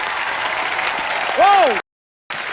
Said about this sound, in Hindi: आप सबकी जोरदार तालियों के बीच प्लीज वेलकम पंजाब की शान सुपरस्टार दिलजीत दोसांझ